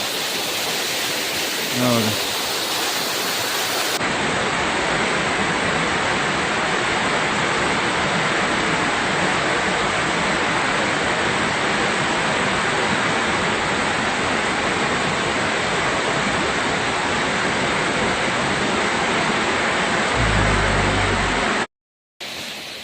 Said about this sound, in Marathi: निसर्गरम्य असा वातावरणामध्ये एक आपला धबधबा आहे